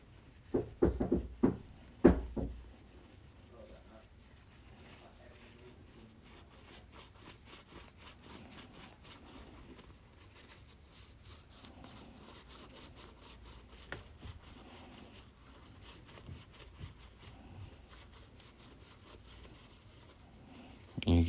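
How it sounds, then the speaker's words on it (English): A silver quarter coin rubbed with polish to remove black tarnish, giving a faint, steady scratchy friction texture with a few louder scrapes near the start, heard up close. "we're just going to rub all that black off of there"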